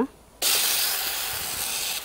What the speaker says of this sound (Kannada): ಇನ್ನು ಆ ಒಗ್ಗರಣೆಗೆ ರುಬ್ಬಿದ ನೆಲ್ಲಿಕಾಯಿ ಮಿಶ್ರಣವನ್ನು ಸೇರಿಸುವ